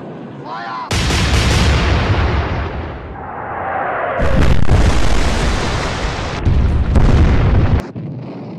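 Heavy battleship guns fire in repeated booming salvos during a Bismarck naval battle, loud, close and rumbling, with short gaps between the blasts.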